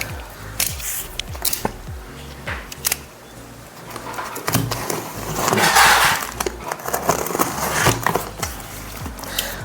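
Cardboard packaging of a Eureka Forbes robot vacuum cleaner being unboxed: loud, close crackling, scraping and tearing with sharp rustles and thumps throughout, no talk.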